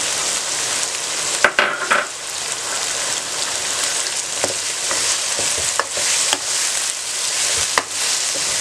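Chicken chranda sabzi with tomatoes fries and sizzles steadily in a pan over high heat, with a few scraping stirs of a spoon cutting through the continuous crackle.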